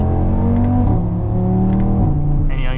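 An Audi TT RS engine revs hard after a one-gear downshift, a loud, steady rising drone that stays close throughout with no one speaking.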